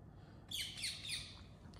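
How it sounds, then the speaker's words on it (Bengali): A parrot calls outdoors in a short burst of shrill, scratchy squawks and chirps at moderate distance, with faint background noise around it. "কি সুন্দর টিয়া পাখিতে ডাকতেছে"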